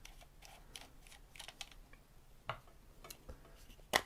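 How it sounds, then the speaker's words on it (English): A small screw on the side panel of a pink mini electric chainsaw is turned out with a screwdriver, giving soft irregular ticks and clicks close by, ending in a sharper click. "Just unscrew it right there."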